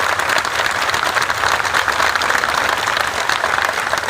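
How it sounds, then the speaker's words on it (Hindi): Sustained, dense audience applause at a political speech in India, loud and steady throughout with no voices over it. "तालियां।"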